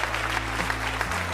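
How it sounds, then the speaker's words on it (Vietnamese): Steady, dense applause from a theatre audience at a live stage show, loud and continuous for a brief stretch, with a low sustained musical drone underneath. "hạnh phúc với những tràng pháo tay nồng nhiệt của tất cả quý vị"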